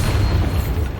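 In a Harry Potter video game, the Bombarda spell goes off as a loud, close, low rumbling blast that fills the whole short moment without a break.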